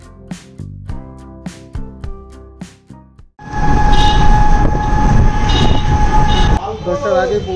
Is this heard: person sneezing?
no